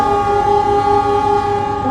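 The Pandalungan passenger train departing Surabaya Pasar Turi station sounds a loud, sustained horn chord close by, holding steady for the full couple of seconds over rumbling low noise.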